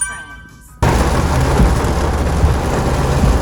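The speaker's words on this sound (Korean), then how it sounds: "한 번씩 비가 오면 앞이 안 보일 정도로 몇 분간 쏟아집니다" Heavy rain pours down suddenly after a quiet start, turning into a loud, dense, continuous hiss of downpour with a few low thuds mixed in.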